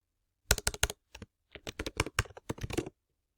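Close computer keyboard typing while an email address is entered, crisp key clicks in two quick bursts separated by a short pause.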